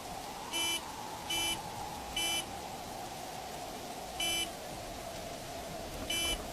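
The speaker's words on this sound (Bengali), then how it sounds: "মনে হলো গাড়ির হর্ন।" A car horn heard through a stormy night in a Bengali cartoon sounds as a string of short, evenly spaced electronic beeps, five in all with a longer gap before the last pair, over a constant wind-like hiss.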